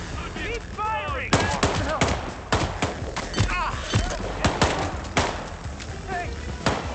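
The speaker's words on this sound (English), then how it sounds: "Keep firing!" Gunfire in the video game Hitman: a dense volley of loud close shots in irregular bursts with sharp cracks and thuds, while voices shout over the shooting throughout.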